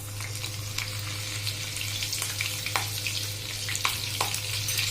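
Finely chopped green chillies fry steadily in oil with a constant sizzle and scattered sharp crackles and pops, joined now and then by the scrape of a stirring spoon, all close and free of talk.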